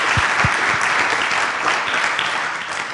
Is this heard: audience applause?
yes